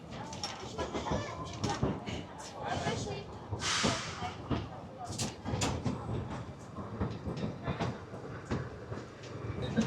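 The Kalka–Shimla narrow-gauge toy train, the Shivalik Deluxe Express, running on its mountain line, with a steady rolling rumble, rhythmic clatter and creaking from inside the carriage while someone speaks over it.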